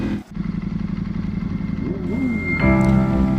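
A superbike pulls hard in third gear on an open highway, its engine note droning steadily and rising in pitch, loud and close, with wind noise and no talk.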